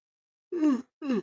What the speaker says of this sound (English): Excuse me for me yawning, man.